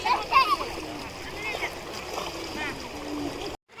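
A young girl plays in river water during the rainy season, with scattered splashes and a voice rising over the flowing water.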